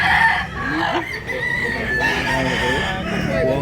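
Roosters at a fowl market in Consolacion, Cebu crow in long, rising calls with clucking mixed in, close and loud amid a busy outdoor background, with a voice speaking faintly underneath.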